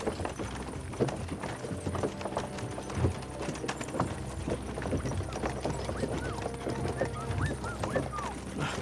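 Horses' hooves clip-clop steadily along a road in the video game Kingdom Come: Deliverance II, a dense, continuous patter of hoofbeats under rolling ambient noise with no voices heard.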